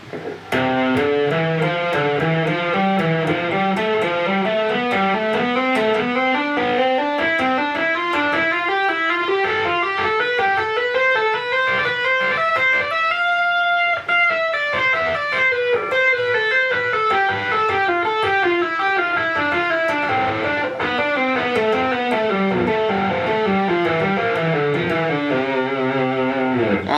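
An electric guitar sequence-tapping run cascades in fast, repeating note patterns that climb and fall, loud and continuous with a slightly distorted edge.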